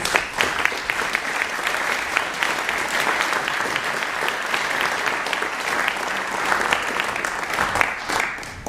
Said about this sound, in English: Karl and Bill, please stand and accept a well-deserved round of applause.